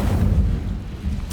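The Incendio fire spell goes off in Hogwarts Legacy as a heavy, booming burst, and a sharp crackling flare follows at the very end.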